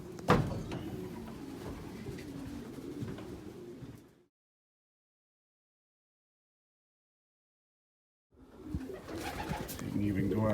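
Racing pigeons coo inside a loft where cocks and hens are housed in separate sections, soft repeated calls under steady background noise, broken by a few seconds of complete silence.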